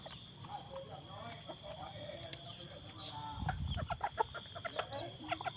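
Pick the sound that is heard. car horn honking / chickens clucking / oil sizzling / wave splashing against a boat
chickens clucking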